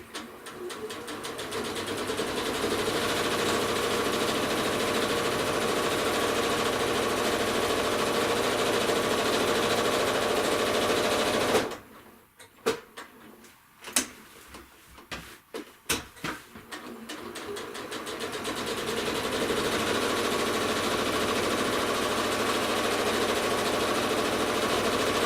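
A sewing machine with a walking foot stitches a quilt, its steady mechanical hum running close and even, pausing midway with a few clicks and thumps before resuming.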